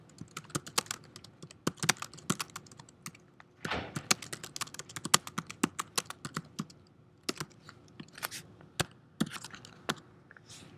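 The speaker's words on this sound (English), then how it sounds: "See, I'm already typing VI commands here." Rapid, uneven clatter of a computer keyboard as commands are typed into a text editor, keys tapping close and crisp in bursts with a brief louder rustle partway through.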